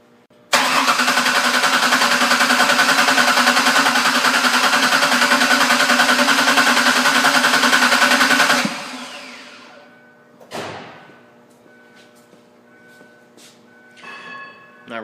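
A car engine cranks and starts during a power steering flush, a loud steady whirring for about eight seconds that cuts off sharply, followed by a brief clunk and faint scattered clicks close by.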